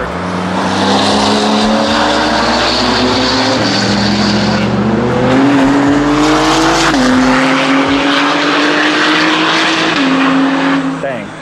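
A high-revving Acura NSX runs laps on the Road America race track, its engine note climbing steadily through the gears with brief dips at each shift, loud and close throughout, with people talking over it.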